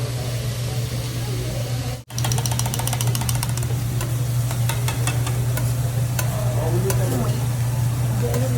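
Rice fries in a pan with a steady sizzle and scraping stir, briefly cut off near the start, then continuing with rhythmic clattering and background chatter.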